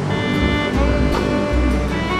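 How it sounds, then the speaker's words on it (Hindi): The Kunhar river rushes fast as a loud, steady roar of broadband water noise that fills the background with no break. "इतनी ज़्यादा स्पीड के साथ पानी बह रहा है।"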